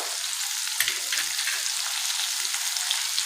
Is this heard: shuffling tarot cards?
no